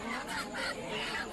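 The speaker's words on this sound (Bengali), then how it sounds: "আর এই নিচের যে 2টা মুরগি আছে, 2টা মুরগি তো দেখতে খুব সুন্দর লাগছে" Chickens at a village market give short repeated clucks close by, sounding in bursts over a busy background murmur.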